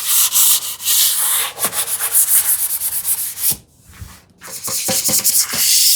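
Hand sanding to denib a shellac finish on a wooden TV unit: loud, close, continuous rubbing strokes in a quick back-and-forth rhythm with a brief pause, no talk.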